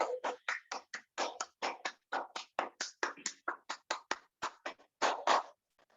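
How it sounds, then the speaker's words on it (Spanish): A group at a dance coaching session claps in bursts, a steady rhythmic run of sharp, close hand claps with short pauses between, and no talk over them. "Aplauso para todos, aplauso para todos."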